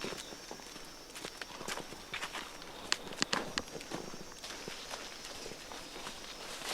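Footsteps tread steadily through Kibale forest in Uganda, close by, with scattered sharper snaps and crunches of leaf litter and twigs against a soft background hum of the forest.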